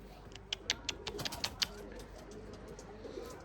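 Lemon-colored breeding pigeons give soft, low coos amid a series of sharp clicks and flutters early on, then settle into a quieter background murmur.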